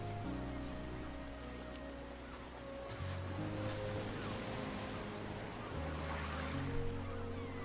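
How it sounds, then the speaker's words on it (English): Ocean waves wash and surge in a steady broadband hiss under a sustained low musical drone, swelling slightly midway and again near the end, with no talking. "The ocean's so beautiful and big."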